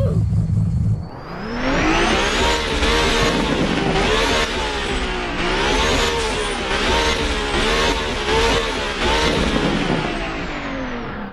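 Roblox Driving Empire game car engine revving hard, a loud continuous synthetic engine tone rising and falling through repeated accelerations and gear-shift-like sweeps, close and alone.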